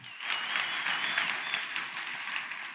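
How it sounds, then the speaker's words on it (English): A crowd applauds steadily at a Bitcoin conference event, a dense, continuous wash of clapping that holds even and fairly loud from start to finish with no voices standing out. "Let's give her a round of applause"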